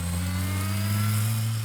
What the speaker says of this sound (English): I'm warming up this engine here a little bit.